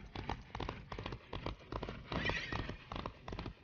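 A horse in the Disney Infinity 2.0 video game clip-clops steadily and neighs, with rhythmic hoofbeats running throughout at a moderate level and no talking.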